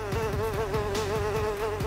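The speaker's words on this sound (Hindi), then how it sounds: "यहाँ मक्खियाँ वहाँ मक्खियाँ, जिधर देखे उधर मक्खियाँ।" Swarming houseflies buzz in Karachi amid uncollected garbage, several insects whining at once in a loud, close, continuous drone that rises and falls in pitch as they fly past.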